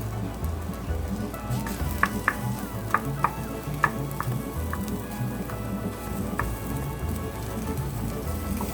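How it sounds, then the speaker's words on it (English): Rice sizzling and frying in oil with shallots in a pan for sweet and spicy Mexican rice, a steady soft crackle broken by a few light clicks of stirring, with no talking. "I'm going to add my rice in."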